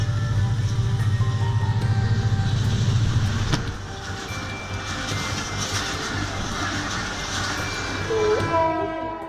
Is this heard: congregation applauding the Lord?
no